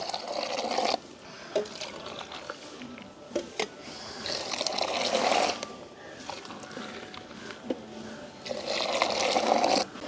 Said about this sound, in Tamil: சுடுதண்ணியை சேர்த்து முதல் வந்து ஆற்றி விட வேணும்